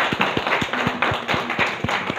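Congregation at a Christmas Sunday church service clapping to welcome newcomers, a short burst of steady, rhythmic hand claps filling the room, with faint voices mixed in.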